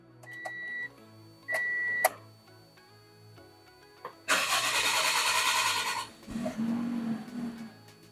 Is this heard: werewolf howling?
no